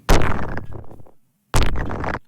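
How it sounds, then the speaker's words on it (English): Two heavy, distorted low underwater rumbles, each swelling abruptly and cutting off, separated by a brief silence. "Let's use some distortion."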